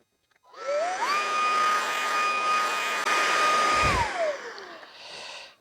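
A small VacLife VL732 or Oraimo H2 cordless vacuum sucks up a heavy dirt mix of shredded material, sand and soda, its motor whining up to a steady high-pitched roar with a rattle of debris, then winding down.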